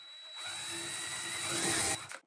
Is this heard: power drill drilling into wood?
yes